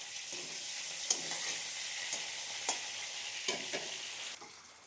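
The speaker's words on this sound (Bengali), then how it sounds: "দুটো পেঁয়াজ আমি একটু ভেজে নেব" Two onions sizzle steadily in a pan for paneer korma, a constant broadband fry with a few sharp clicks of stirring scattered through, close and moderately loud, no voices.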